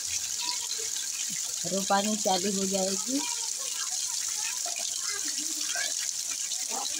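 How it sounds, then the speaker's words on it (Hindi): Heavy rain pours down in a farming village, a steady full-band hiss of falling water throughout, with someone talking over it in Hindi. "हमारे यहाँ बहुत अच्छी बारिश हो रही है।"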